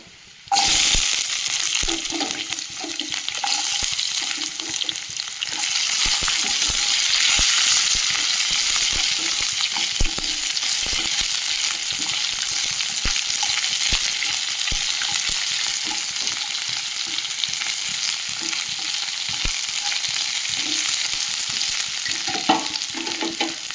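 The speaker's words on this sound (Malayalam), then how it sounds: "മുളക് ഒന്ന് വഴറ്റി കൊടുക്കുക." Dried red chillies sauté in a pan with very little oil for a tomato chutney, a continuous close sizzle and frying hiss with occasional stirring scrapes that runs steadily for the whole stretch.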